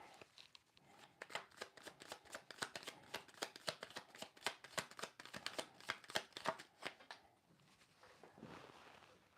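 Tarot cards are shuffled by hand in a quick, soft run of riffling flicks and taps, close and fairly quiet, easing off toward the end.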